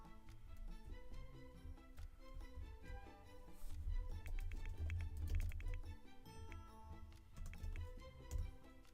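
Rapid computer keyboard typing, a dense stream of close, crisp key clicks and taps in uneven bursts with a faint low hum underneath and no talking.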